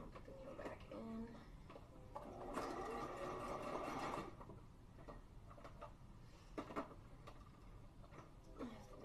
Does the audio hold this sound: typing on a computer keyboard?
no